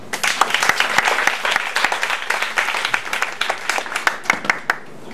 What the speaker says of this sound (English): Round of applause for Alcina.